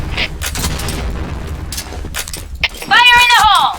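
A grenade goes off in the shooter game Point Blank, a sharp blast landing amid scattered gunfire and clatter, with a voice shouting a callout near the end.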